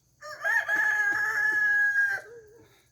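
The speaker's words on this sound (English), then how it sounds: "Stupid chickens." A rooster crows once nearby, a loud, drawn-out cock-a-doodle-doo lasting about two seconds, with faint clucking beneath and otherwise quiet surroundings.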